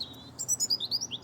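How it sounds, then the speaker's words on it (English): A small bird gives a rapid series of about seven sharp, high chirps, close and clear over a quiet background with no speech. "see that bird?"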